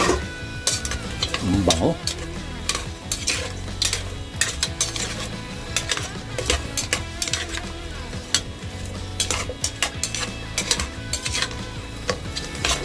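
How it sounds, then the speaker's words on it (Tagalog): Utensil scraping and stirring in a boiling pot with chili peppers, over steady bubbling and sizzling, with clinks of metal throughout; a brief voice is heard. "Ayan, kumukulo. So haluin natin ulit."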